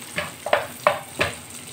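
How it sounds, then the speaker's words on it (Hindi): Ginger, garlic and green chili sautéing over a medium flame for shahi paneer, heard as four distinct scraping stirs spaced about a third of a second apart over a low, soft background sizzle. "उसके बाद अदरक, लहसुन, हरी मिर्च। इसको थोड़ा सा सौते कर देंगे मीडियम आंच पे"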